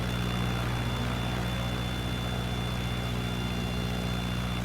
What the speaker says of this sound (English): There's a stall warning buzzer.